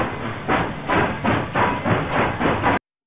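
A train passes with a rhythmic, repeating chuff-like rumble and hiss pulsing about twice a second, loud and steady, cutting off abruptly at the end.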